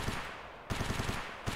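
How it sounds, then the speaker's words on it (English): Rapid automatic gunfire in the shooter game Escape From Tarkov, dense repeated shots filling the clip in two loud bursts with a brief gap between them. "there's already gunshots"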